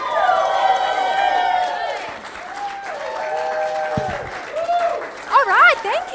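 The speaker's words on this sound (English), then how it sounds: "Thank you guys for the applause there" Applause from a live event audience welcoming two presenters to the stage, loud and sustained with dense clapping, while other sounds and voices come and go over it.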